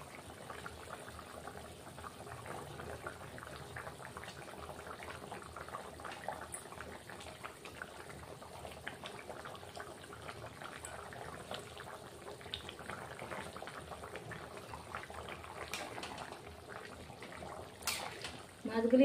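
Pieces of rui fish dropped into a simmering cauliflower and potato curry, a continuous close bubbling and sizzling of the liquid with faint clinks, ending in a louder rustle, and no clear talk.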